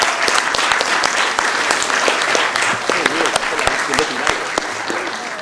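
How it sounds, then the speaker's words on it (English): Audience applause in a Sacramento city council chamber, a steady wash of many hands clapping at close range that holds for several seconds, with a voice briefly audible under it. "please give them a round of applause."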